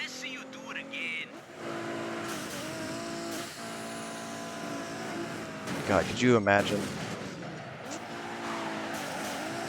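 Race cars roaring through a street race in the video game Midnight Club 3: Dub Edition Remix, engines droning steadily with a burst of tire squeal and crashes midway, under excited talk.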